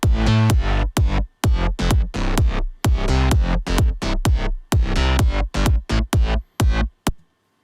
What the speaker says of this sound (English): So with the kick, it sounds like this.